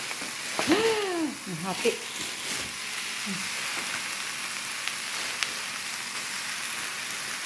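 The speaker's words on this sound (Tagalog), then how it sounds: "Igigisa na natin." Ground beef sautéing in a pan, a steady broadband sizzle running throughout, with a person speaking briefly over it near the start.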